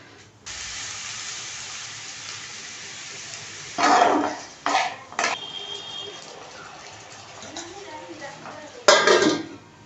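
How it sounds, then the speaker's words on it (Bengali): Bottle gourd peel frying in oil tempered with nigella seeds and dried chili, a steady sizzle with a few sharp clatters of utensils against the pan, no talking. "এই যে লাউয়ের খোসাটা ভাজবো, ওর মধ্যে কালো জিরে আর শুকনো লঙ্কা ফোড়ন দিয়েছি।"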